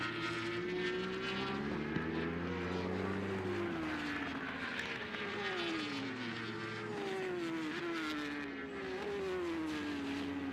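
Superstock 1000 racing motorcycles scream around Pannonia Ring in Hungary during an Alpe Adria championship race, several high-revving engines with rising and falling pitch as bikes shift gears and pass, fairly distant and continuous.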